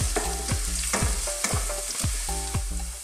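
Pork ribs and aromatics for Filipino adobo sa gata frying in a pan, a loud close sizzle broken by rhythmic scraping stirs and utensil knocks every half second, no voices.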